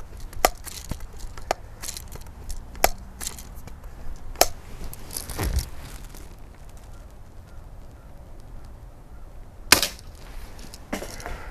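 Sharp air rifle shots and pings from a Crosman Pumpmaster 760 and a Daisy Powerline 35 fired at cans outdoors, arriving as scattered single cracks at irregular intervals, fairly close and loud against quiet background.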